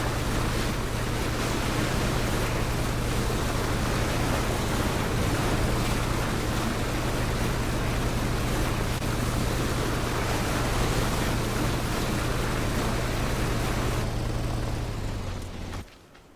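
An Aquarail jet ski in PUBG skims across open water, producing a steady roar of spray and splashing over a low engine hum with wind noise, unbroken for most of the stretch before cutting off abruptly at the end.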